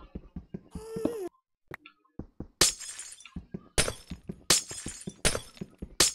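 Glass shatters repeatedly in the video game Sea of Flame 2, with loud crashing bursts separated by short gaps and sharp clattering thuds, plus a brief tonal sound and a silent pause early on.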